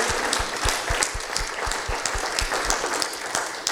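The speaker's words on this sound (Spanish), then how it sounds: "demos un aplauso al pastor, gracias y gratitud por la exposición de hoy" Audience applause at a church conference, a steady wash of clapping from a crowd with sharp individual claps standing out, continuous and fairly loud throughout.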